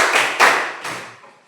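A small classroom group gives brief applause for a student group, a few loud bursts of clapping that quickly fade out.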